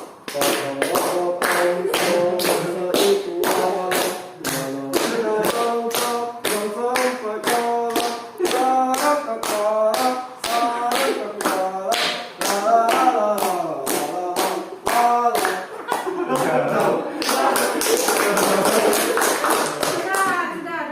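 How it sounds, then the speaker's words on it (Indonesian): A group of children in a classroom counseling session claps hands in a lively rhythmic pattern of quick repeated bursts mixed with singing voices, growing denser and more scattered toward the end. "Kita tepuk tangan ya"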